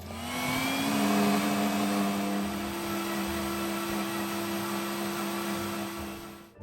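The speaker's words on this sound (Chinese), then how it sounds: "然后全部倒入搅拌器内，倒入清水500毫升" Pandan leaves blending with water in a kitchen blender, a loud steady motor whir with a high hum holding level for several seconds, no talking.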